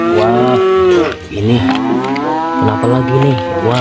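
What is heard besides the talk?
cow mooing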